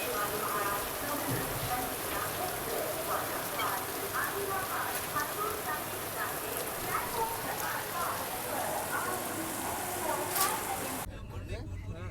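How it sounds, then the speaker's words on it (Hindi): Steady rain pours at a railway station at Ballarshah during a train journey, a continuous hiss of drops on surfaces with scattered patters, with someone talking over it and a sharp cut near the end. "बारिश देखो कितनी सही बारिश हो रही है भाई"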